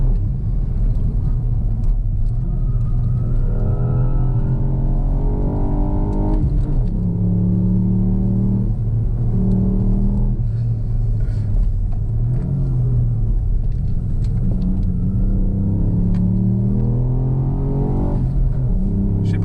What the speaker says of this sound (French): ça se chante super bien dans l'habitacle. Le 3 cylindres fait vraiment le taf